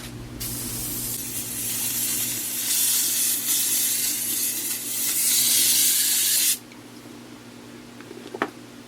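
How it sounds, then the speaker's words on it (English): Steady, loud hiss of 3M spray adhesive sprayed across the top of a starfish craft piece before a sawdust coating, running for about six seconds then stopping abruptly, followed by a faint click. "I'm going to spray the whole thing all over the top, make it good and sticky"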